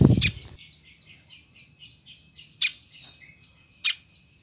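A pied fantail chirps in a quick series of high, thin notes, with a few sharper, louder calls standing out against a quiet background.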